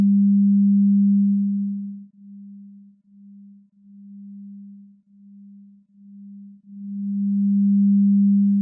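Test signal from a MaxRe beamforming algorithm, heard as a steady low sine-like tone that holds loud, then drops quieter and pulses in short uneven segments before swelling back to full level.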